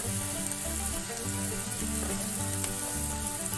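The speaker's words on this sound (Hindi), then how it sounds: "एबे एठी प्याज पके देबा, कंचा लंका," Onion and green chillies frying in hot oil in a kadai, a loud continuous sizzle with some background music playing underneath throughout.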